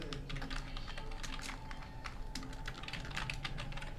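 Fast, steady clatter of keys on a computer keyboard as a supplier name is typed in, close and even, with no pauses for talk.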